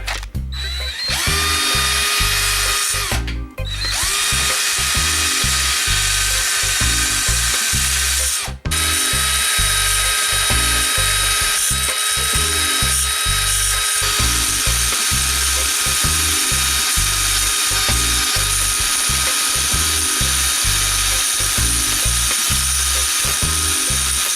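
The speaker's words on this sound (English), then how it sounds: "I'm just using the drill" A power drill whines loudly and steadily while grinding through a metal rod on BMW E34 Touring roof rack locks, with a pulsing mechanical rhythm and two brief stops.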